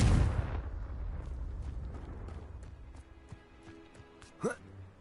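A Confringo blasting curse from Hogwarts Legacy detonates in a loud, booming explosion at the start, its rumble trailing off, followed by small crackles and a brief whoosh near the end.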